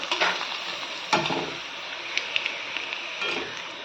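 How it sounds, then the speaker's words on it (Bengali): Rice papad frying in hot oil, a steady close sizzle with a thump and a few light clicks of a utensil turning the pieces, no talking. "পাঁপড়টাকে আগে ভেজে নিই"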